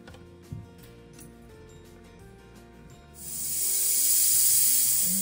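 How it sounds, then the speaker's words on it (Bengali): A pressure cooker on a kitchen stove starts with low, rattling, churning bubbling and a small clank. Then a loud, steady, high steam hiss or whistle builds and holds to the end. "এবারে এই প্রেসার কুকারের ঢাকা আটকে ঠিক একটা সিটি দিলেই হয়ে যাবে"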